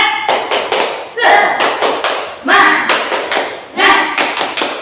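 A class of children claps a rhythmic cheer, close, loud and in unison. Groups of quick claps are set off by stronger accented beats, with voices chanting along underneath.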